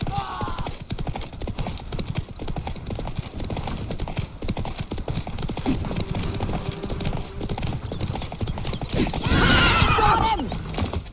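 Roach the horse gallops with steady hoof clip-clop and a sharp whinny near the end, set in The Witcher 3 video game amid continuous game music and ambience.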